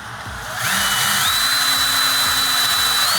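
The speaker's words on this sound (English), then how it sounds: "Okay, some nice drilling." A power drill whirs steadily during a DIY build of sound-absorption audio panels, starting after a brief quieter moment and holding a loud, continuous high-pitched whine close by.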